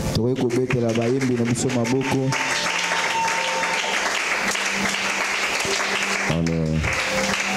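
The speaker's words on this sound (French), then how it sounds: "Est-ce que nous pouvons acclamer pour notre chorale?" Church congregation applauding its choir during a French-language service, a dense, sustained wash of clapping that fills the clip, with voices and music briefly heard at the start and again near the end.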